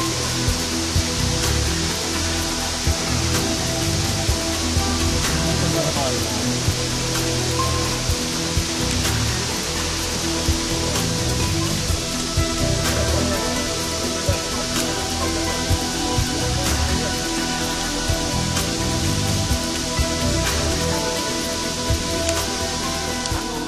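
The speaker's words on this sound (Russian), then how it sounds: "А вот и цель. Третий водопад имеет высоту 21 метр." A 21-metre-high waterfall, the third along the route, gives a steady, dense roar of falling water, close and unbroken throughout with no talk.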